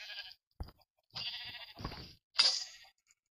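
Sheep in the video game Minecraft bleat in a few short, clear calls separated by brief silences, each bleat close and fairly loud with no talking over them.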